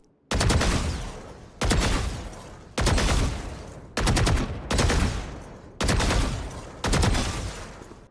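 Seven sustained bursts of automatic gunfire from a video game shooter, each loud rapid-fire spray lasting about a second with brief pauses between, no talking.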